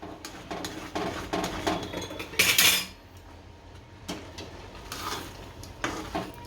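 Grated coconut being stirred in a pan for nariyal ladoo, with a spoon scraping and clinking against the metal in repeated close strokes and a brief louder scrape midway.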